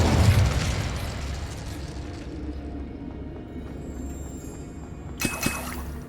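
An incendiary fire spell in Hogwarts Legacy erupts with a loud whooshing burst that fades into a low crackling roar, followed by a few small pops and a sharp burst near the end.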